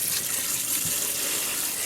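A new kitchen tap sprayer rinsing ground beef in a sink, a steady hissing spray of water, moderately close and continuous, with faint splashing against the meat and sink.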